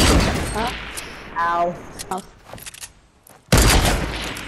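Gunfire in Fortnite: a quick rattling burst of shots, a second burst a moment later, then a loud blast near the end, with a player's voice heard between them.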